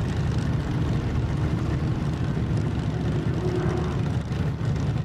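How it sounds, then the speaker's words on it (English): An off-road race vehicle at the King of the Hammers qualifying runs at full throttle toward the first jump, a steady, heavy engine roar that holds loud and unbroken throughout. "A slight hesitation, and then a full throttle assault into the first jump."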